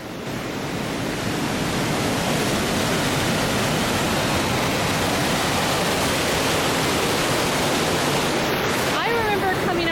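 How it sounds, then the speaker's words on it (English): A wild, high-flowing waterfall roars loudly and steadily throughout, a broad nearby rush of fast water with a faint voice near the end. "Look at all that water."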